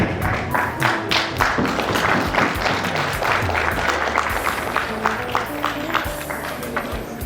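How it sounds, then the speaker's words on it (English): Audience applause at an anniversary awards ceremony, a dense, steady crowd clapping that fills the whole stretch at moderate loudness with sharp individual claps and a faint voice underneath. "can we have a huge round of applause?"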